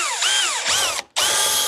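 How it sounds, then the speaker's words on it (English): A power drill with a very long bit whines in two rising and falling bursts, cuts out briefly, then spins up again, loud and close, while fitting fender flares to a Polaris RZR. "Yes, this is a super long drill"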